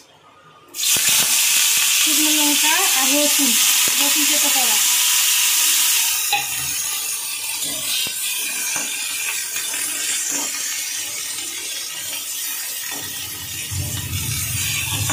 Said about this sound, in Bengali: তেলটা গরম হয়ে গেছে, এর মধ্যে দিয়ে দেবো পেঁয়াজ